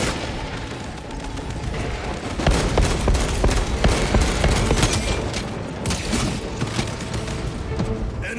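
Dense, continuous bolter gunfire from Space Marine 2, a rapid barrage of loud shots and booming impacts that thickens after the first few seconds and keeps rolling throughout with no speech.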